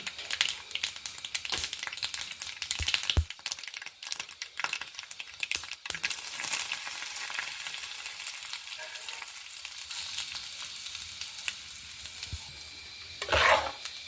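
Mustard seeds splutter in hot oil for a tempering for a colocasia stem curry, with constant crackling and scattered sharp pops, and a louder burst near the end.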